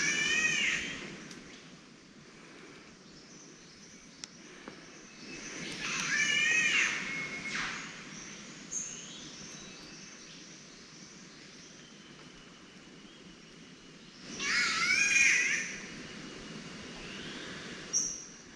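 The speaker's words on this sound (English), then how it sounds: "So it's a cat bird that sort of sounds like a screeching child" Three separate bursts of a catbird's screeching, wailing call sound like a crying child in a forest reserve, each lasting a second or two and separated by quiet ambient stretches.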